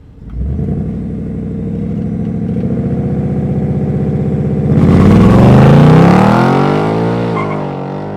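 A 2024 Ford Mustang GT launches hard from a standstill, its loud engine rumbling and climbing through the revs. Partway through, a shift makes the pitch jump to a harsher, rising roar. No one speaks.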